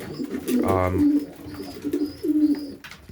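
Racing pigeons in a loft coo in low rolling bursts, close and fairly loud, with wing or body rustles and a brief higher call in between.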